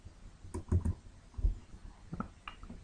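Computer keyboard keys typed in short irregular bursts of crisp clicks, close and fairly quiet, while a DNS server address is entered in the network settings; no one speaks.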